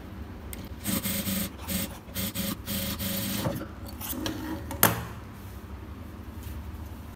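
Sewing machine running over a pattu pavadai silk skirt seam, a steady mechanical stitching rattle with short pauses and one sharp knock near the end, close and moderately loud.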